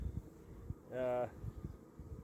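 Honeybees buzz around brood frames pulled from a hive, one short close buzzing pass rising out of a quiet background with faint handling noises.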